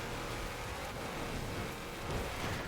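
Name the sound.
rain in Forza Horizon 4 video game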